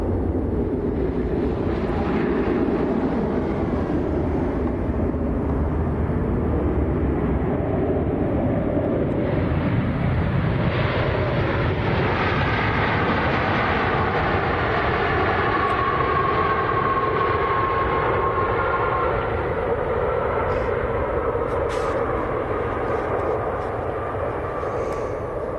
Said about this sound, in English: The TUI from Larnaca that's just about to touch down.